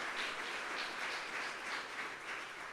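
A church congregation applauds in a sustained, dense wash of clapping that carries on evenly throughout, somewhat distant and with no speech over it.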